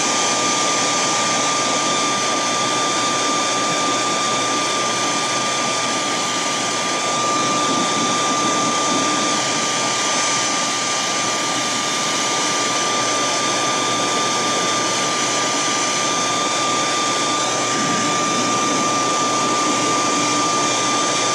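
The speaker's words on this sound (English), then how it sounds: "I know people don't like to hear the blow dryer going" A loud, steady blow dryer heat-setting airbrushed paint on metal fishing lures roars continuously with a constant high whine, running unbroken from start to finish.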